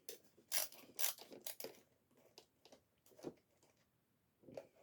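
A screwdriver works at stubborn screws on a Robosapien V2 robot, producing faint, sharp ratcheting clicks in short irregular bursts up close, with quiet pauses between turns and no one speaking.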